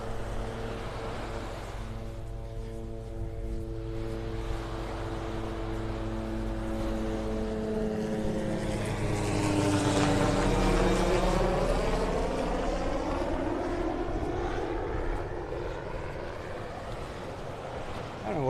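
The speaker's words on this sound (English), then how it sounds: "Now there comes a noisy helicopter. Screaming up behind me." Helicopter flying along the Vanderbilt Beach coast in North Naples, Florida, rising from behind as a swelling whine and rotor roar that peaks mid-clip and sweeps past, heard over steady surf and wind.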